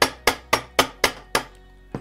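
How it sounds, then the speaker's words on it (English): Ball peen hammer striking a rivet on a homemade metal cookie cutter, six sharp evenly paced metallic blows close up, then a pause and a seventh lighter tap. "switching back to the ball peen"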